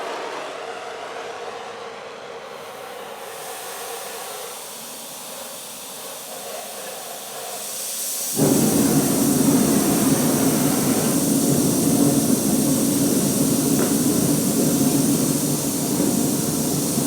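Gas from the opened valve of a casting furnace burner, used for melting aluminum bronze, starts as a faint hiss and then surges abruptly into a loud, steady, broadband rushing roar that holds for the rest of the stretch.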